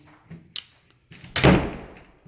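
A coat closet door in a house being handled: light knocks and taps, then a loud swinging thud of the door closing, close and unaccompanied by talk.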